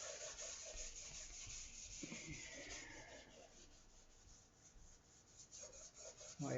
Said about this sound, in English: now instead of using steel wool, I got to use sandpaper